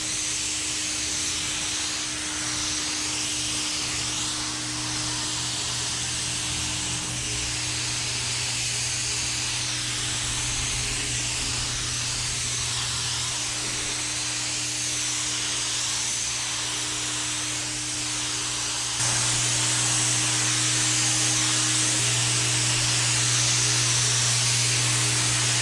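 Spray gun laying down a third coat of car paint in a home garage, a steady close hiss that runs continuously for the whole stretch with a low hum beneath and no voices.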